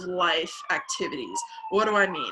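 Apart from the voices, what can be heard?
emergency vehicle siren outside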